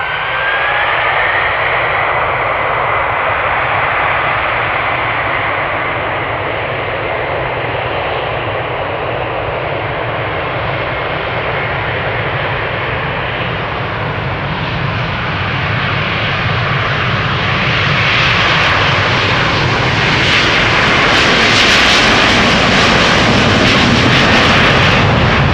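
A KLM airliner bound for Atlanta departs Amsterdam Schiphol in snowy weather, its jet engines giving a loud, steady roar that swells toward the end.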